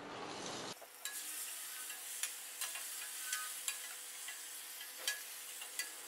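Green peas fry alongside cashews in a pan for egg biryani, giving a steady, fairly close sizzle with light, irregular ticks and clicks of stirring scattered throughout, no voices.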